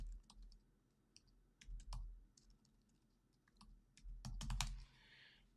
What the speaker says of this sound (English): I'm trying to type over on my second monitor